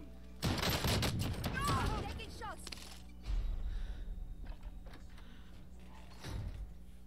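Video game shotgun blasts come in three heavy, booming shots spaced a few seconds apart, each with a short rolling tail, with voices talking in between.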